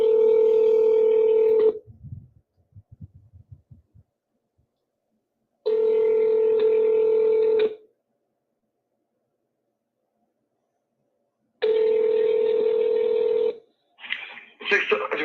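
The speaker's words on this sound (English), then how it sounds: "wait while I transfer your call." Telephone tones on a call being transferred: three long, steady ringback-style tones separated by silences, with faint clicks between the first two and a brief burst of line noise at the end.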